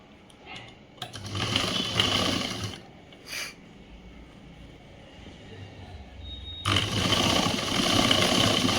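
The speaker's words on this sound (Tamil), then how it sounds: "இந்த ஓரத்துலேயும் இப்படியே வச்சு ஒரு தையல் போடணும்." Domestic sewing machine stitching the shoulder seam of a boy's government school uniform shirt, running in two sustained bursts of steady mechanical whirring, fairly close, with quieter handling noise between.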